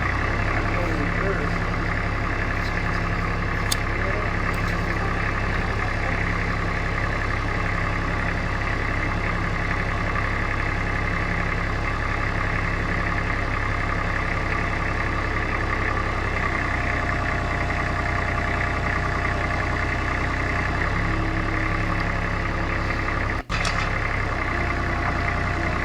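A mini excavator's engine runs steadily at idle during track maintenance, its bucket pressed down to lift one track off the ground; a loud, continuous diesel drone holds throughout with little change and one brief click.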